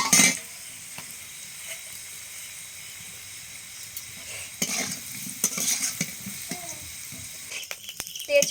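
Bay leaves and cumin seeds sizzle softly in hot frying oil in a home kitchen, a quiet steady hiss broken by a few brief clinks and scrapes of stirring.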